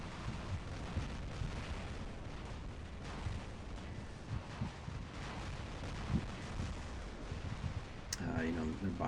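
Continuous dense gunfire and blasts from a robot battle game with the Orkan mech, a steady roaring barrage of shooting and explosions at fairly even loudness throughout.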